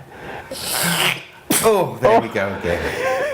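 One sharp, close sneeze bursts out mid-clip, with people talking just before and after it.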